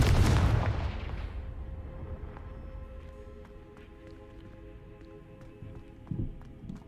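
Spell explosions from Bombarda and Confringo in Hogwarts Legacy: a heavy booming blast up front that decays into a rumbling tail, followed by a smaller thud later, with no talk.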